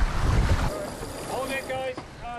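A sailboat sets off for the start of the Cascais Harbour Race, with loud wind buffeting and water rushing at first, then a steadier hiss of wind and sea as faint voices and whistles come through.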